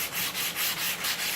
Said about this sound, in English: I'm going to go with the grain back and forth this direction. I'm going to lightly sand this.